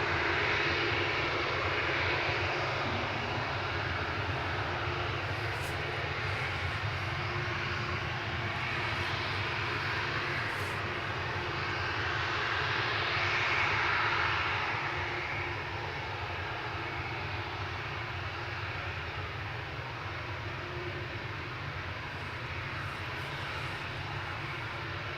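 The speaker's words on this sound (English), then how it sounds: "So the Dreamliner is a 7879 Boeing Dreamliner, registration A7BHA." A Boeing 787-9 Dreamliner jet at Manchester Airport, its engines a steady, broad roar that swells slightly midway and then eases, heard from a distance with no talk over it.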